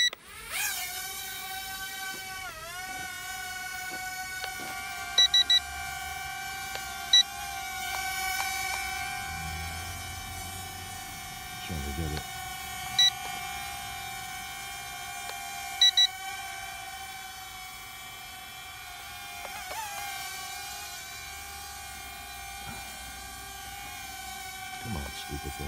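A drone in compass mode spins up and takes off with a steady, tonal motor whine that shifts pitch as it flies, holding for the whole stretch with a few faint beeps and quiet speech underneath.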